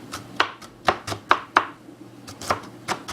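A knife chops onions for a grilled cheese on a cutting board, with about eight sharp, close knocks at an uneven pace and short gaps between them, and no voices.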